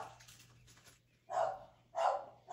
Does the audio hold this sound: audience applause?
no